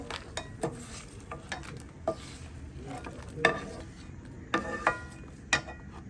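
Eggplant frying for sambal with a soft steady sizzle, broken by a few scattered clicks and scrapes of a utensil against the pan, close and quiet.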